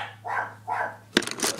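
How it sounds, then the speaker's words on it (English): Dogs barking in the background of an indoor room: two muffled, moderately distant barks, then a sharper burst of clatter and yaps near the end. "Probably got some dogs in the freaking background barking"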